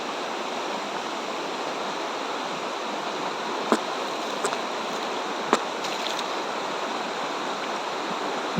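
River water flows steadily in a broad, even rush, with no pauses, plus a few faint brief knocks near the middle.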